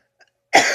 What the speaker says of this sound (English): And I'm really sorry about this cough.